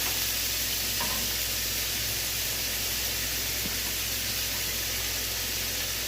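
Two pounds of shrimp sizzle in a pan, a soft, steady, even hiss of frying that runs unbroken throughout beneath a low constant hum.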